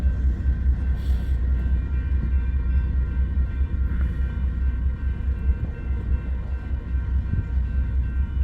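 A westbound freight train rolls past after a crew change, producing a steady low rumble with faint rail squeals and clanks throughout, no voices.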